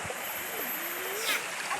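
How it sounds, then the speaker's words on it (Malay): Small untouched jungle waterfall and shallow stream at a campsite in Negeri Sembilan, a steady broadband rush of falling and flowing water with a brief splash near the end. "Air terjun ni masih dara lagi. Tak terusik, tak ada orang."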